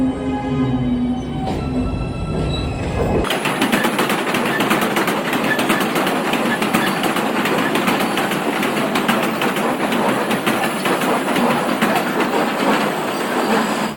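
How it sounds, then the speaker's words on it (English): A New York City M subway train crossing ahead of a stopped train, starting after a few seconds of quieter cabin hum with a sudden loud roar of passing cars that continues as steady, clattering rail noise. "Passengers will be having an M train cross ahead of us."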